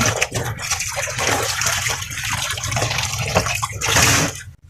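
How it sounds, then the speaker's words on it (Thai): A school shirt is rinsed by hand in a basin of soapy water during a second rinse, with continuous sloshing and splashing up close for several seconds, then a brief louder gush near the end. "ล้างน้ำที่สองต่อค่ะ ยังเป็นฟองอยู่เลย น้ำที่สอง"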